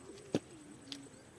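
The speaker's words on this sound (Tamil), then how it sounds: "இதுக்குள்ளே தான் சாதா புறாலாம் இருக்குது." Ordinary pigeons kept in a cage inside a room give soft, quiet coos over a faint hum, with one brief sharper burst near the start and a smaller one later.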